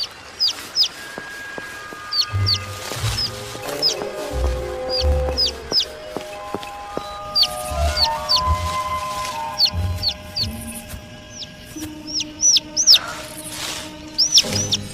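Repeated high chirps from a small bird sound throughout, over clucking fowl and low thumps and rustling in the background.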